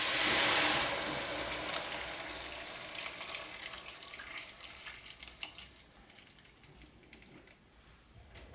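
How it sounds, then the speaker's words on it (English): Boiling water is poured from a kettle over broccoli florets in a pot, a close, loud splashing gush at the start that fades into softer hissing and crackling as the water settles. "I put the florets in a pot and pour boiling water over them."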